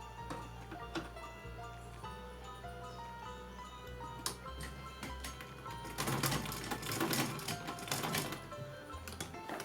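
Sewing machine stitching a small Laddu Gopal doll dress, heard as a quiet, close mechanical ticking and whirring with intermittent bursts and short stops between runs, no one speaking.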